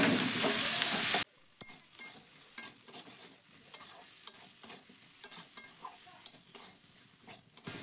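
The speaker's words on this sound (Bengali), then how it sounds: "এবার সব কিছু ভালো করে মিশিয়ে নেব ফার্স্টে।" Chili and coriander powder with salt frying in a pan for a fish curry with drumsticks and potato, stirred with a spoon; a loud burst of sizzle at the start gives way to quieter frying and repeated sharp scraping strokes.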